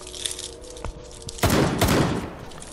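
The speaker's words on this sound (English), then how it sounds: "Is he trying to shoot the barbed wire out?" Gunfire in Rainbow Six Siege: a couple of sharp isolated shots, then a loud sustained burst of rapid automatic fire with echoing crackle, ending in a fading tail.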